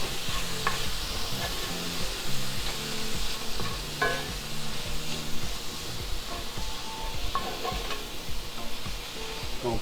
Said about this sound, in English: Gonna come back and stir some more.